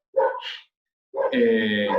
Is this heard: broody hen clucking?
no